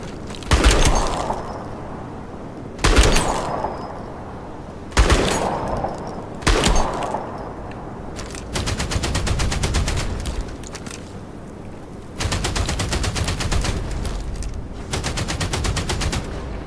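Machine gun turret in the sci-fi shooter game Outpost Infinity Siege, opening with several separate loud single blasts that ring out, then long rapid bursts of automatic fire, close and loud.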